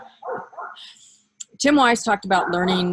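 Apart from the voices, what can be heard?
dog barking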